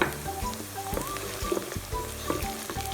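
Onion, garlic, ginger and whole spices frying for chicken korma, a dense continuous sizzle with crackling pops from the hot oil, close and steady, with no talk over it.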